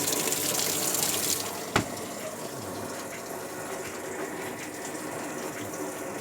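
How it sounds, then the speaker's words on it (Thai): Water gushes steadily into a Sharp ES-F69 top-loading washing machine, a constant rushing flow with one sharp clunk near the start, close and unbroken by speech. "น้ำจะเข้าอีกรอบนะครับ"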